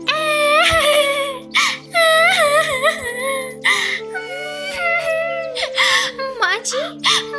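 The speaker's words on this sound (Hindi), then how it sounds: "टुनटुनी चिड़िया लगातार जोर जोर से रोए जा रही थी।" A cartoon sparrow cries loudly and continuously in a high, wailing voice, with sobbing breaks and pitch swoops across several bursts, voiced in a Hindi animated story.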